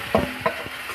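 Wheat flour halwa being stirred in desi ghee with a spoon, a few soft scraping strokes close by over a faint sizzle.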